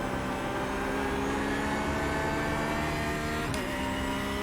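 Porsche GT3 race car in the iRacing sim, its engine droning loud and continuous at high revs with a brief shift blip near the end.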